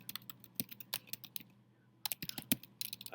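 Keys clatter on a computer keyboard in quick, uneven bursts of clicks, close and fairly quiet, with a short pause in the middle before the typing picks up again.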